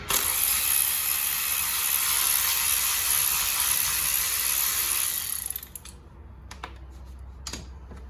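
A ratchet tightens a spark plug on a 2007 Nissan Maxima 3.5, giving rapid continuous clicking for about five seconds, then stopping, followed by a few scattered clicks and handling noises.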